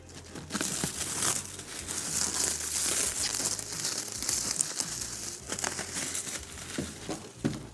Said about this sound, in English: I think it's time to start peeling some plastic off